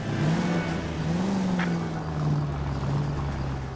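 A car engine from the video game L.A. Noire, a dirty old car, drones steadily with a low, gently wavering pitch as it cruises and revs slightly, loud and continuous without any talking.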